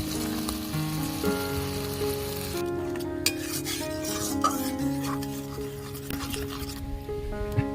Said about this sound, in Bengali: তো এবার মশলাটাকে আমি ভালো করে নাড়িয়ে নাড়িয়ে কষিয়ে নেব।